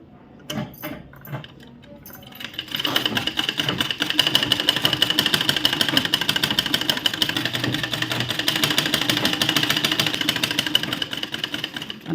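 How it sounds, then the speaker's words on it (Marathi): A sewing machine stitches three sides of a baby's bunny cap, a few hesitant starts giving way to a fast, steady mechanical whirring run that stops abruptly at the end. "आता मी ह्या तीन बाजू शिवून घेते"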